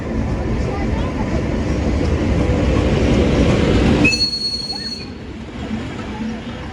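Loud rumbling roar of a passenger train rolling on rails, then a sudden drop to quieter cabin noise with a high squeal.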